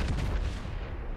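A battleship's naval guns fire a salvo in World of Warships, a deep booming blast with a rumbling tail filling the whole short moment, loud and close.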